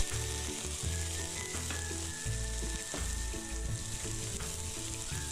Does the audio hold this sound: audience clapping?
no